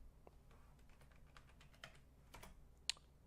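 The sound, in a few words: typing on a computer keyboard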